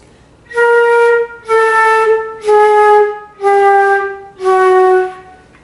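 Five sustained flute notes, each about a second long with short gaps, starting softly and breathily without a crisp attack, played alone and close.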